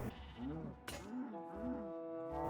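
Sheep in the video game Better than Wolves bleat several times in wavering calls, with other game sounds in the background and no one speaking.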